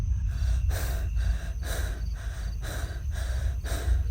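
Heavy panting fills the stretch as a horror narration sound effect: about six loud, close, rhythmic gasping breaths, each a harsh rush of air, repeating evenly over a low hum.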